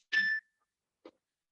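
A phone message notification ding rings out once, a bright clear tone fading quickly, followed by a short faint muffled knock in an otherwise quiet room.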